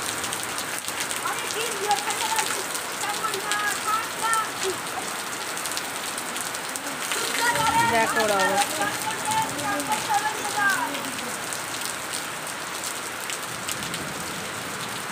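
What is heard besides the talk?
heavy rain falling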